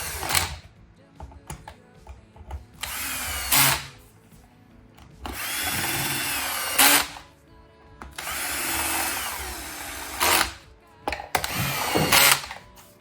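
A cordless driver in screwdriver mode at low clutch whirs in several short bursts, driving screws into the front cover of a Folletto VK 130 vacuum, each run a few seconds long, close by with faint handling noise between.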